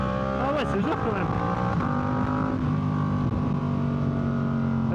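A Yamaha R7 sport motorcycle engine revs and pulls under acceleration, a steady loud droning tone rising and falling in pitch as it is ridden, with wind noise and someone talking over it.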